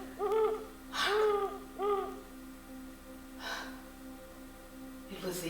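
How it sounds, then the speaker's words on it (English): An owl gives several hooting, shrieking calls, loud and close, with breathy gasps in between and a steady low hum underneath. "It was the owl that shrieked,"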